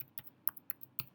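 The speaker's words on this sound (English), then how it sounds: "I'm just going to type mine in here" Several light, irregular clicks of typing on a computer keyboard, close and quiet, about five keystrokes in a second.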